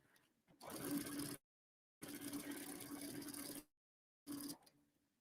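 A sewing machine stitching with a free-motion foot runs in three bursts, a steady close mechanical whir with a buzzing hum, stopping cleanly between runs.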